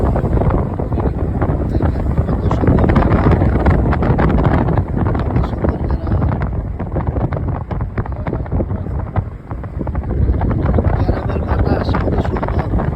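Wind buffeting the microphone while travelling along the Beltoli road in Chandpur, a loud, continuous, gusty rumble with fluctuating roar and no clear talk.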